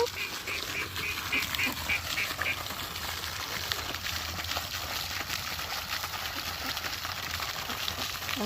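Ducks being fed corn quack in a rapid run of short calls early on, then continue over a steady outdoor background with water and other birds faintly present.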